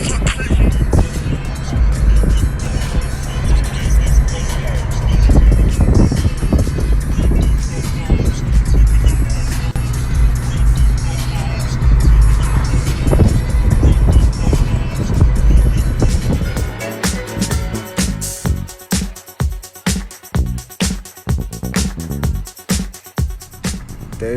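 A loud Subaru car pulls away, its engine noise roaring close and then fading into rhythmic pulsing as it drives off, with people talking over it.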